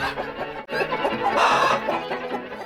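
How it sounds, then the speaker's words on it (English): Chickens cluck and a rooster crows in a henhouse on a farm, a loud, busy mix of overlapping calls with a stronger burst of crowing midway, no speech. "there's no one in there but chickens"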